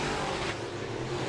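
Modified race cars run on the oval at Raceway Park (Interstate Speedway), a dense, loud, continuous engine roar filling the whole moment.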